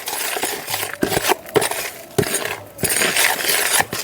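Fertilizer mixture for a guava tree being stirred in a container, giving scattered clinks, scrapes and rattling knocks in irregular bursts, close and fairly loud.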